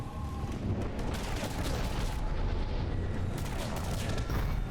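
Steady, dense rifle fire and explosions in Mass Effect 3 on Insanity difficulty, a continuous loud battle din with repeated sharp shots throughout.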